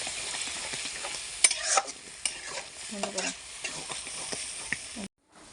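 Taro greens stirred and tossed in a sizzling pan, a spatula scraping and clattering in uneven strokes over a steady close frying hiss, the sound cutting off abruptly at the end.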